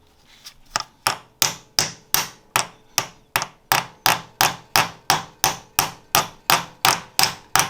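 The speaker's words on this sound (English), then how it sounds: "you know that you'll get there because the tone of the tapping will change" A hammer taps steadily on a clutch alignment tool during a clutch installation, about sixteen sharp metallic strikes in an even rhythm, loud and close with no talking.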